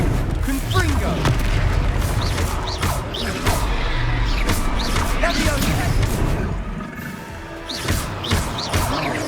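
Confringo explosive curse blasts in Hogwarts Legacy during a fight in Hogsmeade, heavy booms and crashing impacts layered over game music and effects, with voices heard throughout the busy, loud mix.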